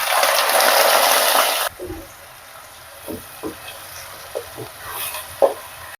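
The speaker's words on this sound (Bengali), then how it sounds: "এখন সামান্য জিরে দেওয়ার পরে দিয়ে দিচ্ছি পেঁয়াজ পেস্টটা।" Onion paste hits hot oil with cumin seeds, giving a loud hissing sizzle for the first second and a half before settling into a quieter crackle with occasional stirring clinks and soft pops close by.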